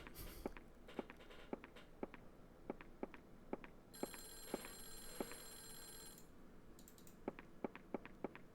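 In the PS1 game Clock Tower, a telephone rings in repeated bursts over a run of sharp regular taps like footsteps, with a bright electronic trill in the middle, faint and distant.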